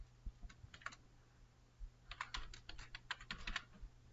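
Short bursts of quiet keystrokes tap on a computer keyboard, a few quick presses, a pause, then a longer run of typing.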